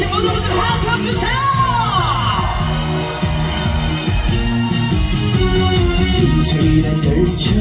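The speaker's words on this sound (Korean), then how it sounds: "저기 계신 모든 분들 함성 주세요." An outdoor crowd at the closing concert of the Sangju hat festival cheers and shouts, a loud steady roar of voices blending with pounding band music throughout.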